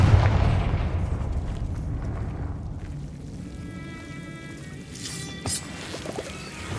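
A Confringo fire spell blasting in Hogwarts Legacy: a close, punchy burst at the start that decays into a rumbling tail, followed by faint magical shimmering and small crackles.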